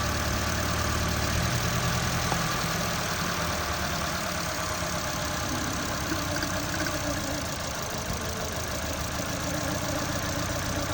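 A Ford EcoSport petrol engine idling with a misfiring cylinder after an ignition wire was cut, a steady close rumbling drone with uneven knocking running on without a break and no voices.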